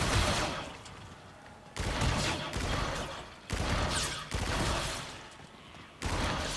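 Rapid gunfire rattles in repeated bursts while shooting zombies in the Zombies in Spaceland video game, loud and dense, with short gaps between volleys and no talk over it.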